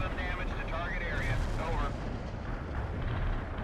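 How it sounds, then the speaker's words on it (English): Artillery shells explode among buildings in the World in Conflict video game, set during an invasion of Seattle: a dense, continuous roar of blasts and low rumble fills the whole stretch, with a voice faintly audible within it. "I love it when buildings explode."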